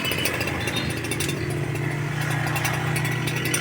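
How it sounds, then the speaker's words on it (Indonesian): A chainsaw runs steadily and loud close by outdoors, a harsh buzzing engine drone held without pause. "Cara menggunakan gergaji mesin atau sensor penggunaan pertolongan bencana alam."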